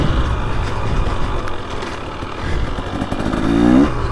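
A 2023 KTM 300XC two-stroke dirt bike ridden on a slick GP-style off-road course gives a steady, loud engine roar with clattering and a slight rise in revs near the end.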